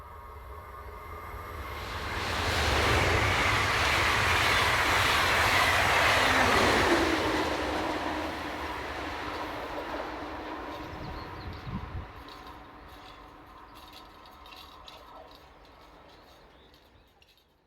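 An ICE Class 402 unit, 402.008, on a Berlin to Dusseldorf service rushes past with a broad roar that swells to a peak and then slowly fades into the distance, with no voices over it.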